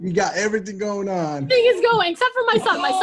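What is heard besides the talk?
No distinct noise like a dog, phone or traffic.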